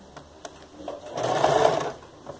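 A sewing machine runs a short burst of stitching along a folded ruffle on a skirt made from fabric scraps, swelling briefly in the middle, fairly quiet and close.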